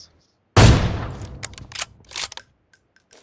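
AWM sniper rifle fire in a battle royale video game: one loud, sharp shot that rings out and decays, followed by a few quieter clicks and clatters.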